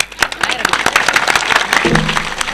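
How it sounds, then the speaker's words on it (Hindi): A small audience at a magic-exposing stage show claps in quick, fairly close, rhythmic bursts for a couple of seconds, with a voice cutting in near the end. "ताली ताली।"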